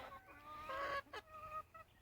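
Chickens in a fenced paddock cluck and squawk in several quick, close calls, with short honking bursts and brief pauses between them.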